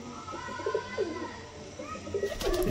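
Breeder pigeons and their chicks coo softly in a loft, with several low, throaty coos rising and falling over faint background noise and a slightly louder burst near the end.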